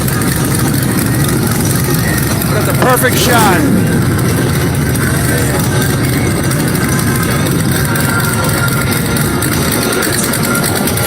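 Big-block V8 engine in a muscle car, Camaro or Challenger type, rumbling at idle among motorcycles at Daytona Beach Bike Week, a loud steady low growl with a brief rev swell, while someone speaks briefly over it.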